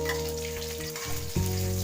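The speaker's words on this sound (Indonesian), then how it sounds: "goreng terong ungunya dulu ya teman-teman, setengah matang" Purple eggplant (terong ungu) frying in hot oil, a steady close sizzle with a louder burst near the end, likely as more pieces go into the pan.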